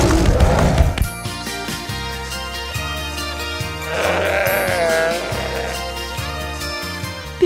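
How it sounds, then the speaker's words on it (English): A bighorn sheep gives a wavering bleat midway through, heard over steady, tuneful background music. "Bighorn sheep are large mammals that are relatives of goats."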